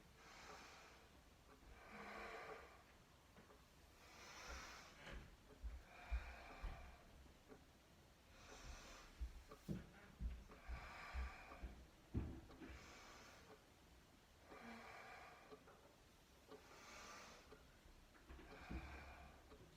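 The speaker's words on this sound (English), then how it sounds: "breathe in and out, breathing in" Slow, deep breathing during a yoga flow, with soft rhythmic inhales and exhales repeating every couple of seconds, very faint and close, along with light rustling and a few small thumps, no talking.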